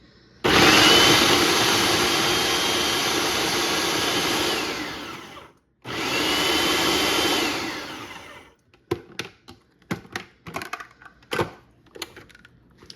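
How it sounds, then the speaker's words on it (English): A food processor whirs loudly as it chops chunks of celery for a fall salsa, running in two long bursts with a brief stop between them, then a series of knocks and clatters as the motor goes quiet. "I'm just putting it through the food processor."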